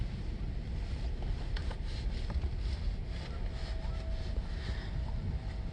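Wind gusting across an exposed hilltop where vehicles are lined up for a funeral gathering, a steady loud roar buffeting the microphone throughout with no one speaking.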